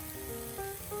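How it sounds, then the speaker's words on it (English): Shrimp frying on a Camp Chef FTG600 flat top griddle at about 355 degrees, giving a steady close-up sizzle with a faint crackle and a few tonal hums over the top. "we're gonna let that sizzle away"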